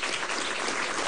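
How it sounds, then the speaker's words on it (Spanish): Audience applause from a crowd at a political address in Zulia, Venezuela, a dense steady roar of many hands clapping throughout, fairly loud, with no talk. "Un aplauso desde aquí para ustedes"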